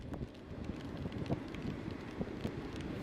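Steady wind roars across an open fishing beach, a continuous rough broadband rush that swells in small gusts, close and unbroken, with no talk.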